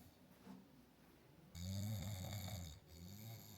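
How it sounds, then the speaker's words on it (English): A husband asleep in a living room snores heavily: one long, rasping snore swells up and fades, then another begins, heard from some distance in a quiet room. "My husband is currently sleeping in the living room, and he literally is snoring up a storm"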